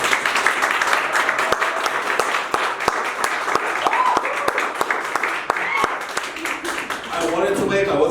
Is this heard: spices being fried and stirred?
no